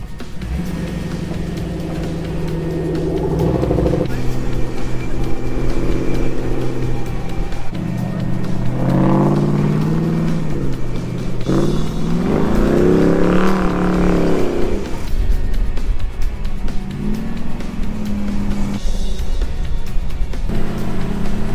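A 1960s Chevrolet Corvair off-road build drives gently on a dirt track, its loud engine note rising and falling with throttle, with brief talk in between.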